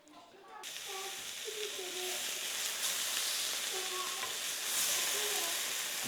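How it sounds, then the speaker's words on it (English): Pork searing in a hot cast iron pan, a steady bright sizzle that swells and holds loud throughout, with no talking. "I'm just going to do a quick sear on the cast iron."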